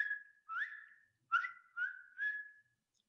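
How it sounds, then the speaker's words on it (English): A Strecker's chorus frog in Arkansas gives five clear, whistle-like rising calls in a steady series, each short and bright, with silence between and nothing else around. "That's the Strecker's chorus frog."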